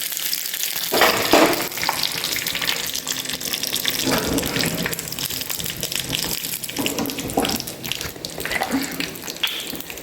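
Mustard seeds and dried chillies in hot oil make a close, rushing sizzle with bursts of crackling and spluttering that swell and ease in waves.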